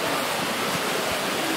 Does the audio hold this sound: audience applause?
no